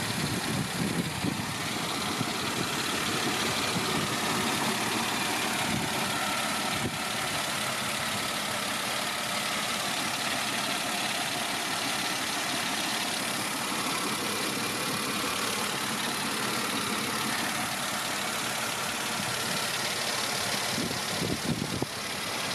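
A Mercedes E 240 W210 with a 2.6 V6 engine runs on LPG at idle, giving a steady, even hum with a faint mechanical whir, close and constant throughout with no voices.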